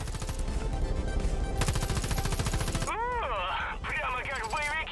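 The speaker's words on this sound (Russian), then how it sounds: "Свистят пули, взрывы" Gunfire and explosions in the shooter game Far Cry New Dawn: rapid automatic bursts rattle densely at close range, then sweeping whistling effects, all loud and constant.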